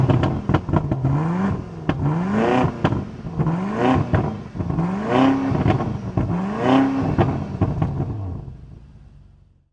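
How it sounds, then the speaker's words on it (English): A 2025 Alpina XB7 SUV engine revs repeatedly, rising and falling in pitch through several loud throttle blips with a rumbling exhaust note, then fades away at the end. "Let's take a listen to how that exhaust sounds first."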